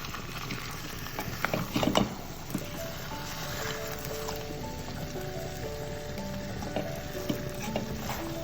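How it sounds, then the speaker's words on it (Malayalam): Metal pressure cooker lid being closed and locked on a kitchen stove with chicken for biryani: a few soft clanks and ratcheting clicks around the start, followed by quiet kitchen background. "അപ്പോൾ ഞാൻ കുക്കർ ഒന്ന് അടച്ചു വെച്ചിട്ടുണ്ട്, ലിഡൊക്കെ ഇട്ടിട്ടുണ്ട്."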